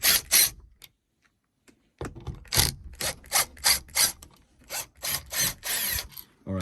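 A screwdriver unscrews the screws of a light switch plate, a near series of short rhythmic scraping, ratcheting turns after a brief pause.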